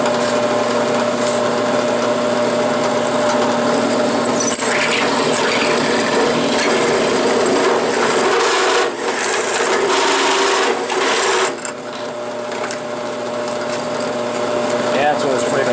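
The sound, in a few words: dull drill bit boring a round hole in wood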